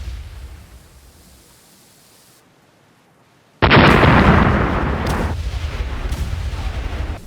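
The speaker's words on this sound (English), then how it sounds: "nothing like a good explosion to calm the moment" A heavy explosion bursts out loud and sudden in the Vermintide 2 video game, a broad roaring blast after a quiet stretch, then a sustained rumbling tail with no voices over it.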